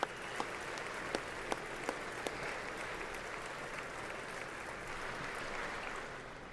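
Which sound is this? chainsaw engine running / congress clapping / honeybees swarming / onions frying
congress clapping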